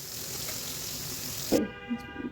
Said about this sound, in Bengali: এদিকে মাছটা ভেজে নেব